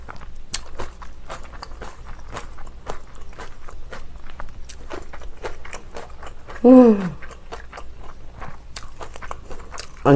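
Close-up biting and chewing of spicy kimchi, with repeated crunchy bites and wet mastication throughout, one brief louder vocal burst near the end, otherwise no talking.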